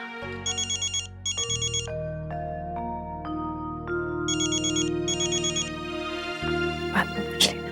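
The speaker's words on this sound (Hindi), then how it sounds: "किसका फोन है बेटा, ले लो।" A phone ringtone plays a melodic electronic tune of stepped tones, repeating in short bursts with high chiming trills, clear and fairly close with no talk over it.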